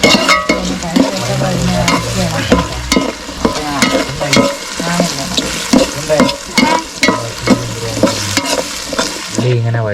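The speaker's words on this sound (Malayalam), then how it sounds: "അപ്പോൾ ആ ഉള്ളി വഴറ്റിക്കൊണ്ടിരിക്കുകയാണ്" Onions sautéing in a pan for a home-cooked chicken curry, with loud continuous sizzling and frequent clattering strokes of a spoon stirring and scraping, close and steady.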